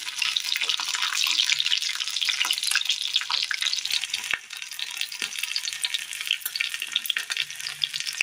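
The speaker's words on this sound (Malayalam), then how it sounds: "അങ്ങനെ രണ്ടാമത് വെച്ച് കൊടുത്ത് നന്നായി ഒന്ന് ഫ്രൈ ആക്കിയിട്ടുണ്ട്" Chicken deep-frying in hot oil for a Kerala recipe, second batch, gives a steady, dense sizzle and crackle throughout, close and continuous, with a few small clinks and stirs.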